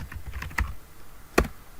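Keystrokes on a computer keyboard while working in Revit, a few scattered soft clicks followed by one sharper, louder key press near the end, close and alone.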